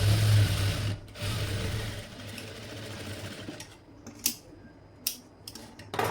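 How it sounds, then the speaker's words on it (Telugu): A sewing machine stitching a hook strip onto a boat neck blouse runs steadily with a humming whir for a few seconds, then stops, leaving a handful of sharp clicks and taps of handling. "ఇప్పుడు నేను ఎలా స్టిచ్ చేస్తున్నా అనేది మీరు ఒకసారి క్లియర్గా అబ్జర్వ్ చేయండి."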